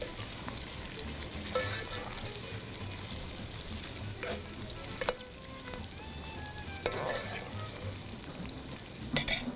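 Black cardamom seeds and husks fry in oil in a pan, a continuous close sizzle with occasional sharp crackles and spoon stirring, with no talking.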